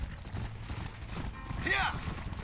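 A horse gallops in the Red Dead Redemption video game, rapid clip-clop hoofbeats under soft game ambience, followed by a short whinny, moderately loud and close.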